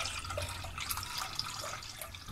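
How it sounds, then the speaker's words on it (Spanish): Orange juice poured onto a warm, cooled sponge cake for a boozy orange cake, giving a steady liquid trickling and splashing sound that runs the whole time at moderate level with no talk. "Ahora le echamos el jugo naranja"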